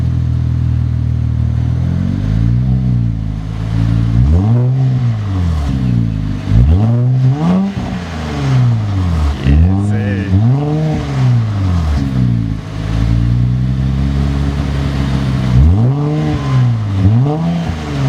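An Infiniti Q50 car with a new aftermarket exhaust revs repeatedly, loud and close, each throttle blip rising and falling in pitch in an uneven rhythm over a steady idle rumble.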